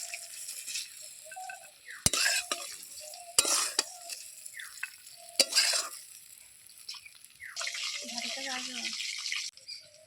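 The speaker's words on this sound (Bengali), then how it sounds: "চিংড়ি মাছগুলো আমি হালকা লাল করে ভেজে নিয়েছি এখন তুলে নেব" Prawns frying in oil and being stirred, with scattered scraping clatters and short bursts of sizzle against a quiet background, close and moderately loud, a voice speaking softly at times.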